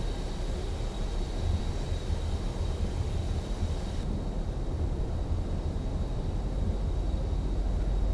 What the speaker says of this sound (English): That engine, the jet engine sound